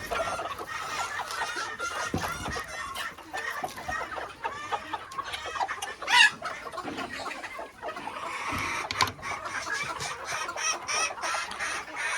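Several buff Sebright chickens cluck and chatter in a steady, busy stream, with occasional sharper calls standing out, moderately close.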